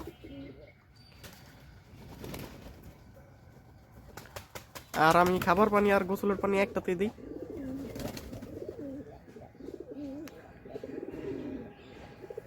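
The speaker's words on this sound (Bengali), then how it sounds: "কবুতর আছে এখানে এই যে কবুতর দুইটা" Two domestic desi pigeons coo softly in a loft, a throaty burst swelling midway and then fading into lighter murmurs, while someone talks nearby.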